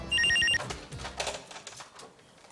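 A telephone rings in a quick burst of repeated electronic trills, loud and close, followed by muffled rustling and faint background noise.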